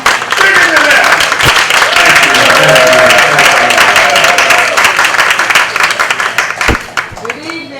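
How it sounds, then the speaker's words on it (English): A crowd gives a loud, dense round of applause at a retirement and birthday celebration, with talk mixed in and the clapping fading toward the end. "Beverly needs a big round of applause also"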